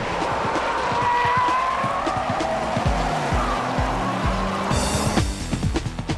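A Honda NSX-R race car on optional larger-diameter tires and racing pads, struggling with brake problems, drives hard on a track. The engine note rises loudly and steadily, with tire squeal and skidding, and no voices.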